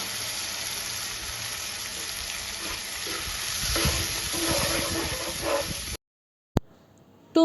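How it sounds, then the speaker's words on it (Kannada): Masala being stirred into frying capsicum for gobi manchurian, a steady close sizzle with scraping spoon strokes in the pan, ending abruptly with a short clatter. "ಆವಾಗಲೇ ರೆಡಿ ಮಾಡ್ಕೊಂಡಿರೋ ಮಸಾಲ ಹಾಕ್ತಾ ಇದ್ದೀನಿ."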